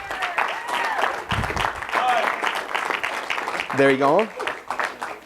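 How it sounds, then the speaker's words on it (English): Audience applause for a man who completed a paid task, mixed with lively talking voices and a brief spoken phrase over the clapping. "Let's give him a round of applause."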